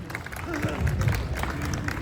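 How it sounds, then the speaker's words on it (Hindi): Audience at a Holi-special kavi sammelan applauds with a steady wash of clapping and crowd murmur, continuous for about two seconds at moderate loudness. "जोरदार तालियां अमूल्य के लिए।"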